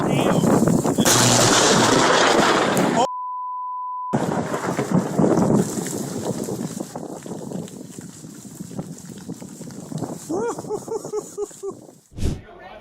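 Thunder from lightning strikes in a thunderstorm: loud, roaring crashes fill the clip, broken by a steady electronic beep near the start, with vocal sounds later and a sharp burst near the end.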